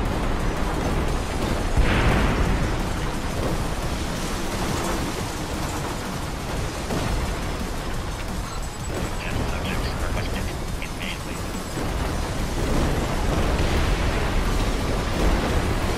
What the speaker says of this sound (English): Serial explosions detected.